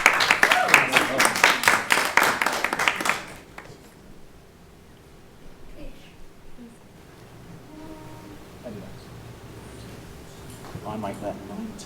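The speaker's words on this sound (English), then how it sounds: "big round of applause" A big round of applause from the audience at a live school quiz, about three seconds of dense, loud clapping that then stops abruptly, leaving a quiet room with faint voices.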